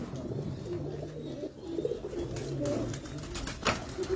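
Pigeons coo in low, murmuring bursts over a busy, rustling background, with the soft calls repeating irregularly and staying fairly close for about four seconds.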